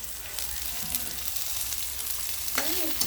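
Onions and chili sauté in a pan for a simple provincial green shell dish, a soft steady sizzle throughout with light stirring, and a brief voice near the end.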